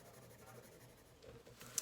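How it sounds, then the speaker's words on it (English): Pencil cross-hatching on paper to shade a sphere, a soft, steady scratchy rasp of graphite strokes, fairly faint and close, with a brief sharper tick near the end. "I'm gonna do some cross hatching to kind of fill in and do layers"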